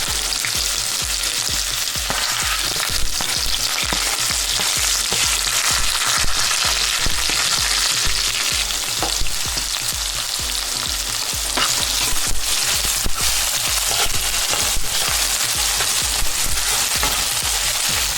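Ginger, garlic, crushed green chili, curry leaves and chopped onion fry in hot oil for a mackerel curry, a loud dense sizzle with frequent stirring scrapes, close and continuous throughout.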